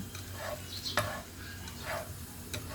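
A cooking mixture is stirred in a pan at home, soft scraping strokes over a faint sizzle, with one sharper knock of the utensil against the pan, fairly quiet and with no talking.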